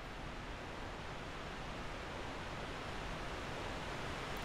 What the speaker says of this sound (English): So we're going to run behind the waterfall.